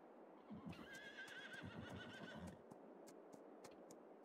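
A horse in Farming Simulator 22 gives a long whinny over a steady run of hoof clip-clops, with soft ambient game sound around them and no talk.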